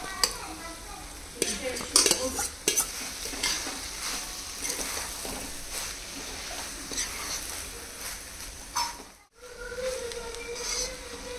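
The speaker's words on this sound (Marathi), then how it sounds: "ग्रेव्ही इतकी घट्ट झाल्यावर आपण ह्याच्यामध्ये भात मिक्स करणार आहोत" Cooked rice stirred into thick spinach and onion gravy in a pan, close spoon scrapes and clinks over a soft sizzle, busier near the start and briefly cut off near the end.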